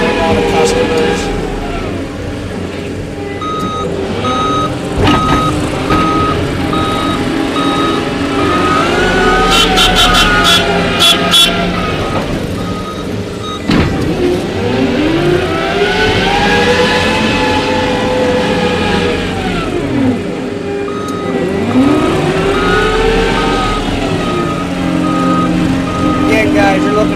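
A John Deere 331G compact track loader runs steadily with a loud diesel drone that rises and falls as it revs and moves, while reversing beeps sound in repeated bursts over the engine.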